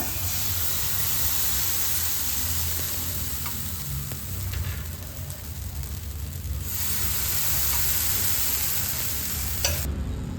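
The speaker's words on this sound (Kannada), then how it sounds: "ಪಾನ್ ಬಿಸಿಯಾಗಿದೆ ಇವಾಗ ಹಾಕೊಳ್ಳೋಣ" Rava appam batter on a hot pan, giving a steady, close frying sizzle and hiss that runs unbroken throughout, with a slight shift in tone partway through.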